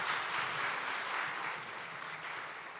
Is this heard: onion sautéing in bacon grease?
no